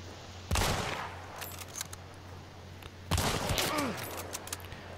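Two loud gunshots ring out in the Hunt: Showdown video game, about two and a half seconds apart, each leaving a long, echoing rumble that fades slowly, with faint clicks and rattles in between.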